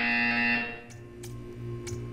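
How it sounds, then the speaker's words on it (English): A loud electronic buzzer sounds in the video game Portal 2, a harsh tonal blare for about half a second that cuts off, followed by quieter humming and a few faint clicks. "You will hear a buzzer."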